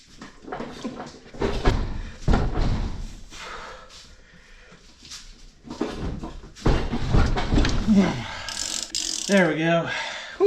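A ratchet socket wrench works loose the lock nut on a car alternator pulley while a screwdriver jams the blade, giving bursts of close, rapid clicking and mechanical clatter, with a short squeaky whine near the end.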